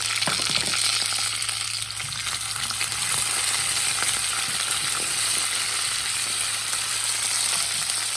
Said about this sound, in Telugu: దీనిలో ఇప్పుడు మనం కట్ చేసి పెట్టుకున్న దొండకాయలు